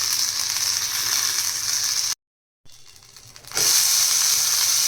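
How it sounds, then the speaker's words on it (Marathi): Pomfret fish coated in green mint paste fries in a pan, a loud steady close sizzle that cuts out abruptly for a moment, returns faintly, then surges back to full strength. "आता पुढचेही मी सर्व पापलेट असेच फ्राय करून घेणार आहे"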